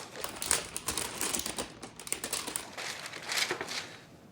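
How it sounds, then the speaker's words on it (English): Parchment paper rustles and crinkles as it is loosened from beneath rolled-out cookie dough, a close, soft, continuous crackle with small peaks, no talking. "I want to loosen the bottom sheet of parchment just to make the cookies easy to remove after I've cut them out"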